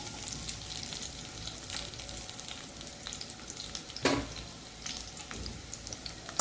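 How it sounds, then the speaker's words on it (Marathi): Onion frying in oil in a kadai makes a soft, continuous sizzle, with occasional stirring scrapes and one sharp utensil clink midway, fairly quiet and with no talking. "कढईमध्ये मी आता तेल टाकून घेतले आहे, त्यामध्ये मी कांदा टाकते आहे"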